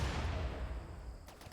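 A grenade goes off in the video game Galactic Ascension as a loud, full-band blast that rumbles and slowly fades. A few sharp cracks follow near the end.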